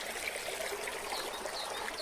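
A clean, cold stream flows steadily, with a soft, continuous hiss of running water that stays even and fairly quiet throughout, with no voices.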